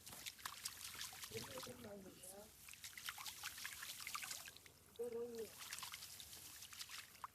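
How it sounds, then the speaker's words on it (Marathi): Rice seedling roots being swished and rinsed in water make soft sloshing and trickling splashes in irregular bursts, fairly faint, with brief voices murmuring a couple of times. "ती पाण्यामध्ये अशा प्रकारे साफ केली जातात"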